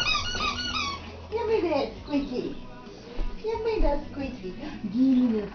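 A squeaky dog toy squeaks in a series of short, bright chirps under ongoing nearby talk, with a dog present in a home setting.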